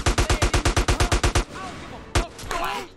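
Gunfire in GTA San Andreas Definitive Edition during a riot, a loud rapid burst of about a dozen evenly spaced shots, then a single close shot after a pause, with a voice briefly underneath.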